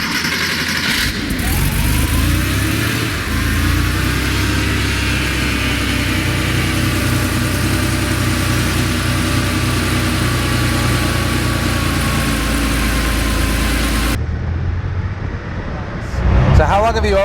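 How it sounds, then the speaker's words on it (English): A Porsche 911 Speedster engine droning steadily on the move, a close, loud, mid-pitched hum with slight rises in revs, and a brief shift in tone near the end. "we went out for a really fun ride in the Speedster"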